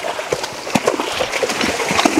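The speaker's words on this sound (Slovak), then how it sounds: "A drevorúbacký kôň po práci si zaslúži aj troška odohnať tie muchy a spláchnuť pot." A working draft horse used for logging, at a horse-handling event, giving soft irregular hoof clops and shuffling movement close by, with no talk.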